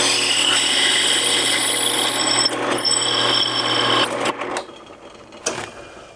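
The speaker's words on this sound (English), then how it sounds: "now I'm ready to drill all the way through the hole" A steady, loud motorized whine of a drill press running continuously as it drills a hole, then cutting off and winding down with a few clunks near the end.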